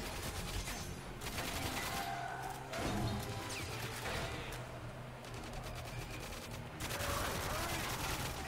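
AK rifle gunfire in GoldenEye Reloaded comes as loud bursts of rapid automatic shots, broken into several separate volleys with brief pauses and some crashing impacts mixed in.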